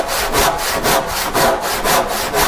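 Sharp left-handed handsaw cutting through wood, loud and close, in a steady back-and-forth rhythm of roughly six strokes with no voices.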